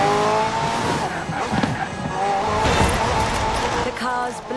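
McLaren P1 GTR supercar in Forza Horizon 4, its twin-turbo V8 hybrid engine roaring loud and close as it accelerates through rising gears, with tire squeal and skidding mixed in and a voice talking over it.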